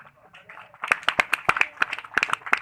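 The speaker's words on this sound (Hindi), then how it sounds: "ये हुआ कचरा ताली," An audience at a religious discourse claps in a loose, scattered burst of sharp hand claps, starting sparse and faint before building into an uneven volley of louder claps.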